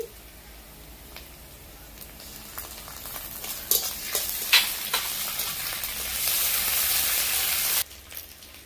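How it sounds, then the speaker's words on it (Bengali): Ginger paste and spices fry in a hot pan, with a steady sizzle and occasional stirring scrapes. The hiss builds to a loud, dense crackle near the end, then cuts off sharply. "তো আমি আদা বাটাটা দিয়ে দিচ্ছি"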